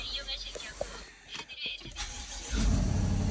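After some quiet shuffling and a faint voice, a BMW 50i car engine with 43,000 km fires up into a loud, deep, rumbling exhaust drone.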